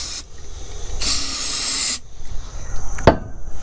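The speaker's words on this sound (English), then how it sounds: "You want to be able to spray this in, and it gets into the throat and into the piston cylinder of the engine." Starting fluid sprays in a single pressurized hissing burst, about a second long, into the throat of a small engine's carburetor, followed by quieter handling clicks and a sharp knock.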